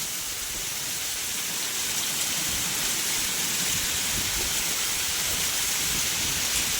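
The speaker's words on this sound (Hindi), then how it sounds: "बढ़िया बारिश आ गई है।" Heavy rain falls steadily and loudly in a dense, unbroken hiss, close by and alone with no voices.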